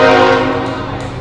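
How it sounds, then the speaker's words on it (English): Freight train horn blares loud and sustained near a summer-night baseball game in Minot, North Dakota, with a rich chord of tones slowly fading as the train rumbles past. "Train's loud tonight, by the way."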